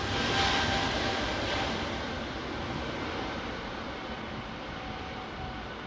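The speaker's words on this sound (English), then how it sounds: "Got a bit of a ramp to go up here, that United 760. So you might get a bit of power up." A United airliner, a 767, powering up on a ramp at Heathrow, a broad steady engine roar with a thin high tone, loudest at the start and easing slightly as it continues.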